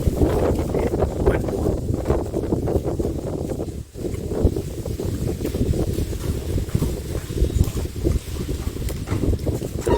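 Cool wind blowing steadily beneath an apartment block on a very hot day, a continuous broadband rush with gusty fluctuations, loud and close with microphone buffeting, no voices.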